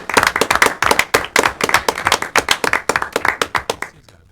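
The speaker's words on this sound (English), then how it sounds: "Typically, this is where people clap for their police." An audience at a borough council meeting claps for local police, a close, loud run of separate sharp hand claps from a modest group that keeps a rough rhythm, then stops abruptly near the end.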